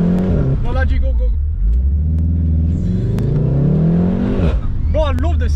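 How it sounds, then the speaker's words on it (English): A car engine revs and accelerates close by, its deep growl climbing in pitch through a long pull and easing off near the end, with brief bursts of talk over it. "Bro, I love the sound on this car"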